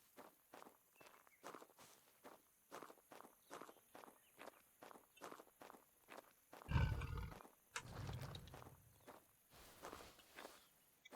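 Heavy dinosaur footsteps in the video game Prehistoric Hunt thud in a slow, regular series of soft, dull impacts at a distance, with a louder rumbling burst partway through.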